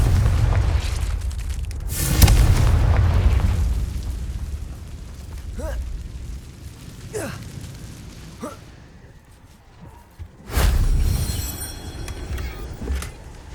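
Fiery spell blasts from the Confringo curse in the Hogwarts Legacy video game, several deep booming bursts spaced apart, one at the start and a heavy one near the end, with quieter whooshes between.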